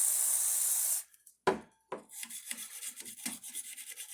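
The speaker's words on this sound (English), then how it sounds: "Going to clean them with a little brush and some Deoxit D5." A short hiss of Deoxit D5 spray, then close, quiet scratchy scrubbing as a small brush rubs back and forth in uneven strokes on audio jacks of a Tascam 122 MkIII.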